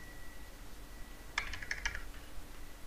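A short burst of computer keyboard typing, about half a second of quick clustered keystrokes entering a file name, close and fairly faint over a steady low room hum.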